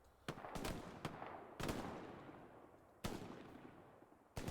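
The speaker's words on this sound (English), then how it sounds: "One guy shooting the garrison." Sharp gunshots in a large 18-versus-18 multiplayer battle game as a garrison is attacked, fired singly and irregularly with echoing tails and a few shots in close pairs, moderately loud against a constant battlefield rumble.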